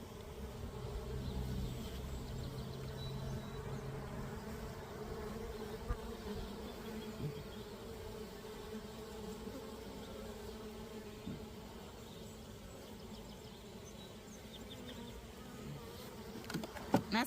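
Honey bees at the front entrance of a beehive in early April, a dense, steady buzzing hum of many insects heard close up, with a few faint knocks near the end and no talk.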